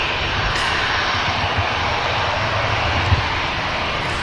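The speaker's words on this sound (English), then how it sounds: "And the Ryanair begins the climb." Ryanair airliner climbing away after takeoff from Manchester Airport, a steady, fairly loud jet engine rumble and hiss sustained without a break, with a brief thump near the end.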